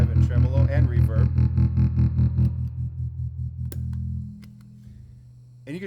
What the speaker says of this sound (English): Overdrive and tremolo and reverb.